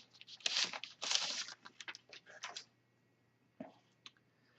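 Plastic outer wrap is pulled and crinkled off a small Apple iMac keyboard, a close burst of rustling and tearing crackles that fades to a few faint isolated clicks.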